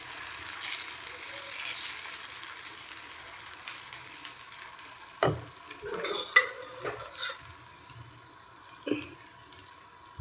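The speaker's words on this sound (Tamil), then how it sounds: "இப்போ கல் காஞ்ச உடனே நம்ம தோசை ஊற்றலாம்" Moong dal dosa batter mixed with onion is poured onto a hot griddle, giving a soft sizzling hiss with a few scrapes and light clatter nearby.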